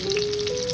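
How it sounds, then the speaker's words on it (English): Aji fish deep frying in hot oil gives a brief, steady close sizzle with fine crackling throughout. "just to prove, I am in fact deep frying them"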